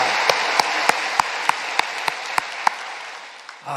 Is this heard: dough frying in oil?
no